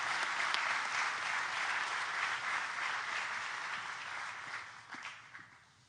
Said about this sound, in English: Let's give all of our award winners another big round of applause.